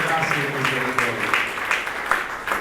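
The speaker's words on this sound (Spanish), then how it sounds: "ríndele una fuerte aplauso a ese Dios de gracia y misericordia" Church congregation applauding, a burst of many hands clapping in quick uneven rhythm, close and fairly loud, with a voice speaking over the start.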